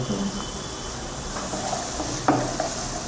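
Garlic paste and ginger paste frying in a pan for dahi chicken curry make a steady hissing sizzle, close and even, with a couple of faint knocks near the end.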